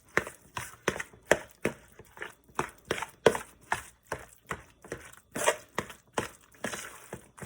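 A knife chops Italian parsley on a board, making a steady series of crisp, close thuds at a brisk, even rhythm with no talking.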